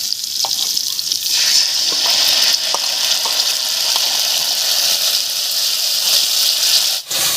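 Ground spice paste goes into raw papaya cooking in a pan, bringing a loud, steady, close sizzle with faint stirring scrapes, running on its own before a brief dip near the end.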